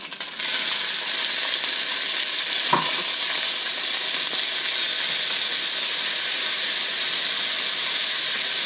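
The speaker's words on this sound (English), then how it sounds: "just cook the chopped garlic maybe for a few seconds to get the rawness out of the garlic" Chopped garlic frying in a couple of teaspoons of oil in a wok, a bright, loud, continuous sizzle and hiss starting abruptly, with one brief stir scrape early on.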